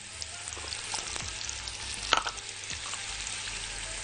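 Onions and garlic cloves frying in a pan with spices and a pinch of salt, a soft steady sizzle with a few light stirring clicks and scrapes, close and alone.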